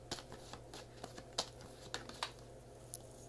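Three oracle cards shuffled by hand, a scattered series of light, close clicks and soft slaps at an uneven pace, faint against a quiet room with no talking.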